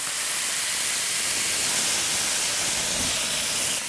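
A smash burger patty pressed onto a hot grill gives a loud, dense, continuous hiss-like sizzle, steady and close throughout with no talking.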